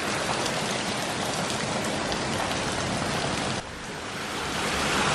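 Heavy rain pours onto a street in India, a loud, unbroken hiss of water that stays steady and close throughout, with no voices.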